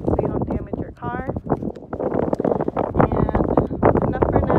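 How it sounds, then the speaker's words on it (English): Gusty wind in the desert near Las Vegas buffets the microphone in heavy rumbling bursts while a person talks over it throughout. "because it's really windy"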